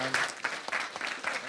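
A conference audience breaks into a brief round of applause. The clapping is moderately loud and comes in uneven bursts, with a voice briefly heard at the start.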